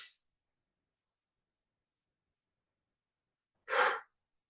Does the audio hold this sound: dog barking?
no